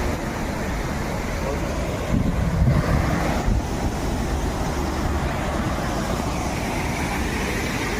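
Steady rushing water of a flooded village river outdoors, a broad continuous wash of noise with some wind buffeting, holding fairly loud and even throughout.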